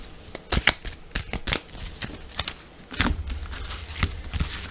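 Tarot cards shuffled by hand for a reading, a run of crisp riffling bursts and soft slaps, close and fairly loud, with brief pauses between handfuls.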